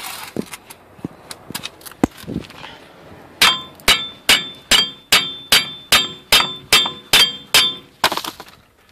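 Hammer blows on a rusted drive axle of a 2005 Ford Explorer, a few scattered knocks at first, then a steady run of about a dozen loud, ringing metallic strikes in even rhythm.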